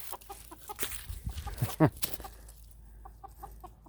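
Chickens clucking near a garage where a 1990 Ford Bronco with a 351 V8 is under repair, short scattered clucks and calls with one louder burst, over low background hum and faint clattering.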